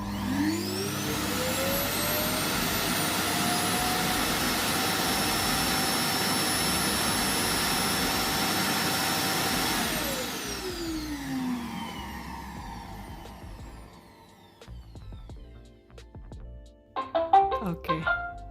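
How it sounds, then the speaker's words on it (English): A Roomba i7+ robot vacuum's base station empties its bin with a loud jet-like roar that rises in pitch, holds steady for about ten seconds, then winds down, followed by a few soft beeps and clicks. "he's going back to his home base over there. And he's going to empty his tank."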